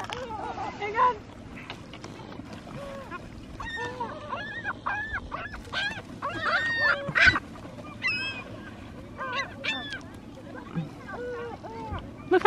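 Seagulls at a beach, crowding around people eating chips, give repeated high squealing calls, some near and loud, others farther off, over steady wind and surf noise while people talk nearby.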